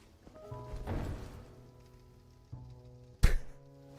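A heavy thump from a Grave Warden's corpse in the dark fantasy game Dark Souls II: a low, dull impact early on, a softer knock later and a sharp, loud thud near the end, with a steady game drone underneath.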